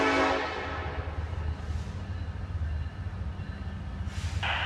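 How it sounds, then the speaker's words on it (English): Norfolk Southern freight train 23G, led eastbound by the Reading Heritage locomotive at Canal Drive, rumbles past steadily with a low rolling drone, opening and closing with short bursts of horn. "here we have Norfolk Southern 23G with the Reading Heritage Unit leading eastbound at Canal Drive"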